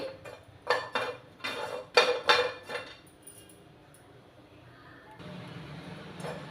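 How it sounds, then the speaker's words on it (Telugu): Roasted gram being dry-roasted in a pan on a low flame, with several bursts of rattling and clinking as the pan is shaken or stirred, then a quieter stretch and a low steady hiss. "ఇలా వీటిని సిమ్లో పెట్టి దోరగా వేయించుకోవాలండి"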